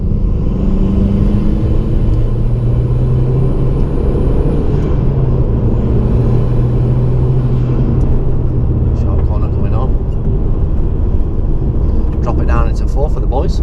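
An Audi TT Mk1 Quattro with the windows up pulls hard, its engine a loud, continuous cabin rumble with a faint high whine, while voices chatter briefly toward the end.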